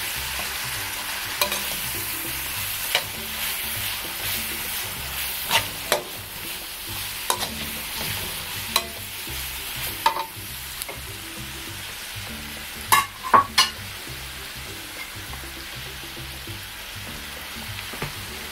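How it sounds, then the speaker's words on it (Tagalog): Carrots stir-fried in a pan for pansit canton, with baby octopus and chicken in the dish: a steady soft sizzle runs throughout, broken by scattered sharp clinks and scrapes of stirring, close and fairly quiet. "Ngayon po ay maglalagay na po tayo ng konting carrots. Tapos hahaluin lang natin siya."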